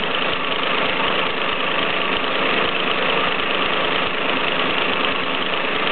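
A Mamod SE4 model steam engine runs continuously nearby with a dense, rapid chuffing rattle, steady and unvarying, with no voices.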